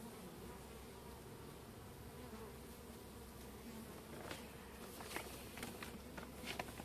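Honey bees buzz in a hive during queen supersedure, a dense close drone that keeps steady, with a few louder wing flurries and light tapping near the end.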